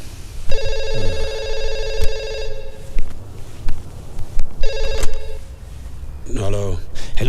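A telephone rings in two loud, steady electronic bursts separated by a pause, with someone speaking over and between the rings.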